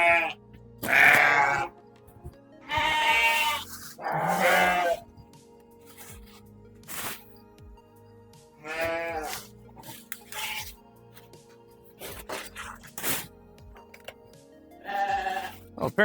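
Sheep bleat loudly in repeated bursts at feeding time on a farm, some calls long and wavering, others short, with a person talking between them and pigs grunting nearby.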